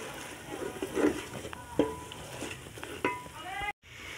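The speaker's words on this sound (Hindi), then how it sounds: "मसाला अच्छी तरह से हमने भून लिया।" Spices fry in a hot pan while being stirred for chickpea pulao, producing a steady close sizzle broken by scraping spoon strokes and a few clinks, before a sudden brief cutoff.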